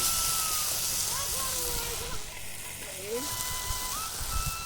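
Tomatoes fry with ginger, garlic, cumin and dried chilli for a village-style tuna fish curry, a steady sizzle that runs under a person talking.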